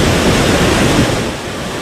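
Floodwater from the overflowing Laguna Lake rushing across a road during heavy rain at night, a loud, dense, steady roar of churning water that eases slightly near the end.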